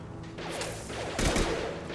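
Mechs firing guns in the video game Mass Effect 2, a dense rattling fusillade with a heavier burst midway, loud and close throughout.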